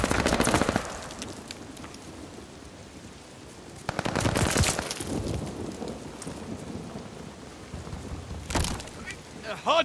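Scattered machine-gun bursts and distant rumbling explosions from a shooter game firefight around a hardpoint objective, fairly quiet, with a couple of louder volleys standing out from a dense, noisy battlefield background.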